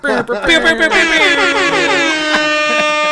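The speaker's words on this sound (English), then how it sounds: "Where's the rap air horn button?" A loud, blaring air horn effect, repeated in quick stuttering blasts before holding a long sustained tone.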